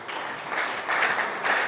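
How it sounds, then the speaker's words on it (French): A conference audience in Kinshasa gives a short burst of applause, a dense clapping wash that swells in a few waves. "Vos applaudissements, s'il vous plaît"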